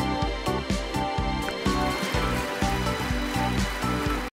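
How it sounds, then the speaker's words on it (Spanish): Rain begins falling in a golf video game as a storm sets in near the green, a steady wash of patter at moderate volume underneath a pulsing rhythmic music bed. "Se acaba de poner a llover."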